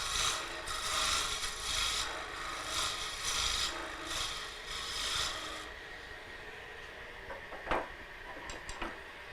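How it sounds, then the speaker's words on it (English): A fingernail gouge cuts wood on a lathe, a steady rasping, scraping hiss in rhythmic waves that stops midway, followed by a few faint clicks and taps. "This is a very aggressive fingernail gouge, because it comes out here kind of shaped like a fingernail. And it takes out a lot of material at once."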